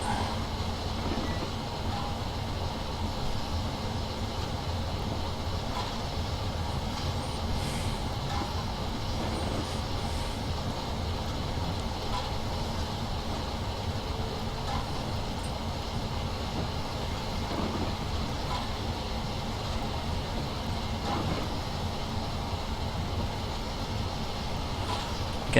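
A wartime black Flying Scotsman steam locomotive in Train Simulator 2016 climbs a hill on the London to Brighton line, giving a steady unbroken rumble and hiss of the engine and rolling stock throughout, with faint periodic chuffs and no talking.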